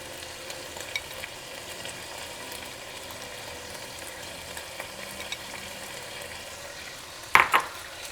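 Sliced onion frying and being stirred in oil in a pan makes a steady low sizzle throughout, with a couple of louder scraping clinks near the end.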